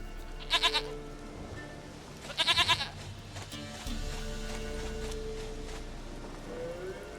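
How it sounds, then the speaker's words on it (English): A goat bleats in The Witcher 3: Wild Hunt, two short quavering bursts, then a steady rain-like ambience and low game background sound with no talk. "Goat of mine, dearest, sweetest goat."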